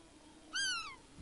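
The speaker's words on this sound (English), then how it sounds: "Mate, that's a cat." A cat meows once in a video game, a single rising-then-falling mew of under half a second, loud and clear over a quiet background, with no voices.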